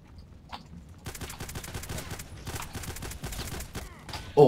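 Rapid bursts of GSh-18 pistol fire in the game Contact Wars, a dense string of sharp close shots running for several seconds after a quiet opening, ending in a louder hit.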